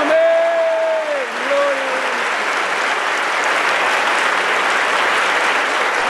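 A church congregation in Barranquilla gives sustained, dense applause that fills the room, loud and even for six seconds, with a held voice or tone audible over it at the start.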